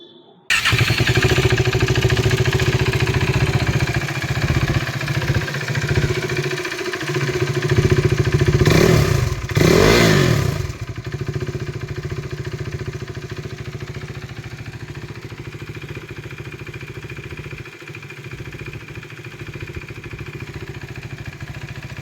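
A 2016 KTM RC motorcycle engine idles steadily and close by, with a loud rev or two midway before it settles back to a low, even idle.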